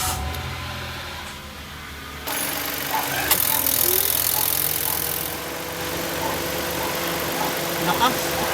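A Mitsubishi Mirage engine runs at a steady idle after a radiator fan motor replacement, a continuous mechanical drone that grows louder partway through as the fan kicks in, with no talk over it.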